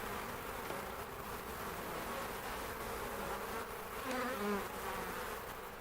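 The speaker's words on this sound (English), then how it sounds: "go ahead and shake some of these bees in here" A dense, continuous buzz of many honey bees fills the scene, steady and close, with a few brief louder passes.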